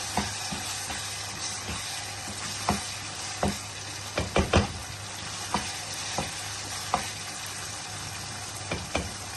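Kidney masala with coriander stems sautéing in a pan, a continuous sizzle with regular scraping strokes of a spoon and a brief cluster of louder clanks near the middle, no voices.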